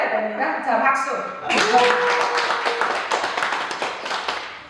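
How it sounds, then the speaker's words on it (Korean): Applause breaks out from a church congregation, a dense patter of clapping hands that fades gradually, following a person speaking briefly at the start. "여러분 박수로 인사드립니다"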